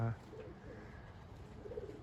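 Young racing pigeons of the 2020 hatch at a loft give soft, low cooing calls, a few faint coos scattered under a quiet background after a brief voice at the start.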